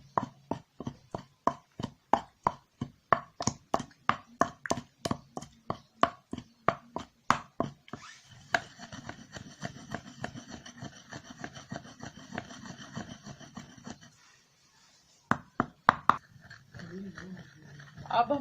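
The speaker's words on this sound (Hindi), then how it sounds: "अब इसको थोड़ी देर मिक्स करेंगे।" A spoon mixes yogurt into a coriander, mint and spinach chutney, giving a long run of steady, evenly spaced knocks against the bowl, then softer scraping and stirring, then a few more taps.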